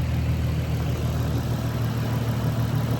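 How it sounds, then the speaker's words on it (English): An Infiniti G35 engine idling after a radiator and cooling upgrade, a steady low rumble with a constant even hum and no revving, close and continuous. "I got it buttoned back up, sitting here idling"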